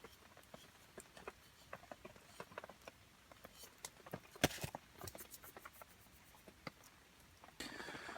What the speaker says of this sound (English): Sound of the rain on the tarp outside.